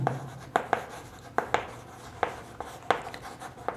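Handwriting on paper during a Class 6 maths lesson, a series of short, sharp pen strokes in irregular bursts, close and fairly quiet, with no talking over them.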